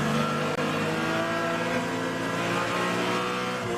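Endurance race cars at Sebring roar on open throttle, a dense, loud, continuous engine drone with layered harmonics from several cars, steady throughout.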